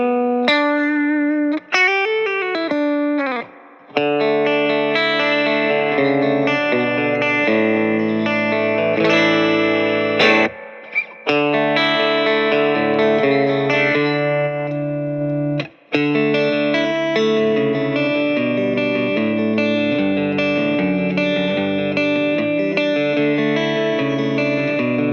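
A Hiwatt Leeds 25R amp carries an electric guitar with the reverb set halfway, sustained chords and melodic lines played steadily and loud with a spacious, echoing tail.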